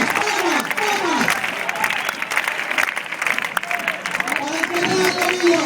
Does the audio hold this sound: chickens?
no